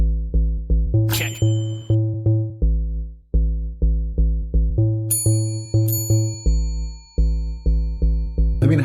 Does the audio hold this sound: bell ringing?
yes